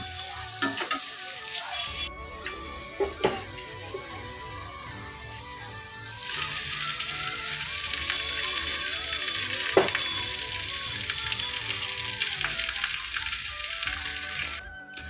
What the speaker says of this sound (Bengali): তো দেখো ভাত ভাজাটা আমি এইভাবেই করি